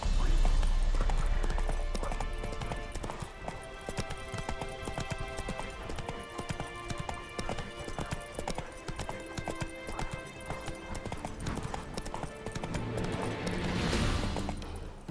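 Roach, a horse in The Witcher 3, gallops with steady, rapid hoofbeats close by, and the pounding runs throughout over a dense game soundscape.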